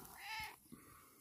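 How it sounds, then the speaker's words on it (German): A single tomcat with a notably plump face meows once, a drawn-out harmonic cry close by, followed by a softer brief sound and quiet room background. "Da ist der Kater."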